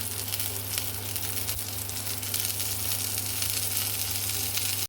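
Unnakaya, a Malabar plantain snack, fry in ghee with a steady close sizzle and bubbling crackle that continues without a break, and no one talks.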